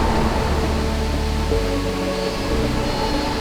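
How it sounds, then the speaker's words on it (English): A Khao Yai waterfall swollen by the rainy season roars as a steady, dense rush of falling water, loud and unbroken from start to finish with no voices. "the waterfall is way bigger and stronger than at other times of the year"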